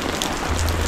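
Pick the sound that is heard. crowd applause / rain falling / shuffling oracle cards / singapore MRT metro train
rain falling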